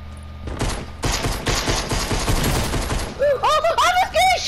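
Rapid gunfire in Fortnite, a dense volley of close shots lasting about three seconds, followed by someone talking.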